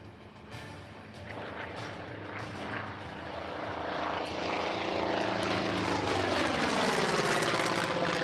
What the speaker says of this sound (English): As the Mustang clears to the right, to the left, low is that of the Douglas AD-4 Skyraider.